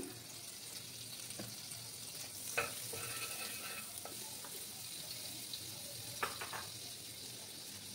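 Butter sizzles steadily in a hot pan while muesli laddus are made, a continuous close crackle with occasional utensil clinks and scrapes and no talk.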